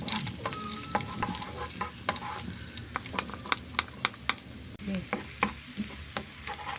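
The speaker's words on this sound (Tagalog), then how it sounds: "magigisa na tayo ng bawang at sibuyas" Garlic and onion sautéing in a pan for bistek tagalog, a continuous sizzle under repeated sharp clicks and scrapes of a spatula stirring, no voices.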